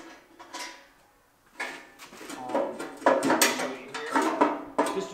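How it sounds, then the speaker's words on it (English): A homemade small door cover comes off the draft door of a DIY outdoor wood boiler unit, with close clattering metal and wood knocks and scrapes in uneven bursts, louder toward the end. "I'll take this off. This little door cover I made."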